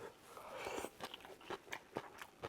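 Close, crisp chewing of stir-fried shishito peppers with eggs, a run of irregular crunchy bites over several seconds, fairly soft and heard alone.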